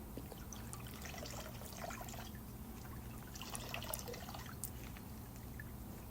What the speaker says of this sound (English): go ahead and give it a squeeze to strain the milk through